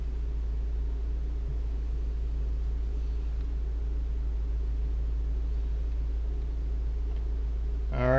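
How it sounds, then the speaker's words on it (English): Steady low engine rumble and road drone from inside a Honda Civic Si as it pulls away and drives, continuous and even throughout, with a brief tonal sound near the end. "So my handbrake is down, and the car is now in motion"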